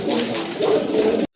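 Pigeons in a bird market, silver pigeons kept in pairs, cooing in a low throaty warble close by for about a second before it cuts off.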